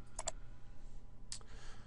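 Two quick computer mouse clicks near the start, then another brief click about a second later, faint and isolated over a quiet background hum while working in Access 2010.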